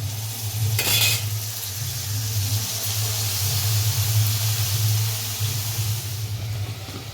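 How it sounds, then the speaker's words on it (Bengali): Onion paste frying in hot oil in a wok, a steady close sizzle with a brief sharp burst near the start and a low hum underneath, continuing evenly without talk. "তেলটা আমার খুব ভালোভাবে গরম হয়ে গেছে। এবার দিয়ে দিচ্ছি পেঁয়াজ বাটা।"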